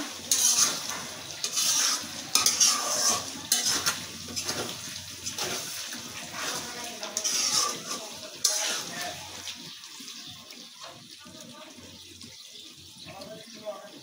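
Beef is stirred and fried in a pan with green chilies for a bhuna, a spoon scraping and clinking against the pot over a soft sizzle while someone talks intermittently.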